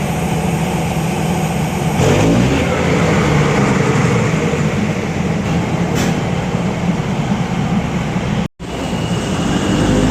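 A train pulls into Mahachai station in Thailand with a loud, continuous rumble of engine and rolling wheels, close by and steady, with a short sharp dropout near the end.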